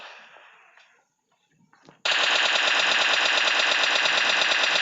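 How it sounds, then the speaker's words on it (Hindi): Automatic gunfire in the mobile shooter PUBG Lite, a loud rapid burst of evenly spaced shots that starts abruptly after quieter footsteps and rustling, then keeps going without a break. "भाई तभी फायरिंग स्टार्ट हो जाता है।"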